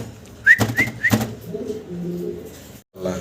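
Fancy pigeons at a breeder's exhibition give soft, throaty coos in a short series of close, rhythmic pulses, followed by lower murmuring coos and a brief pause.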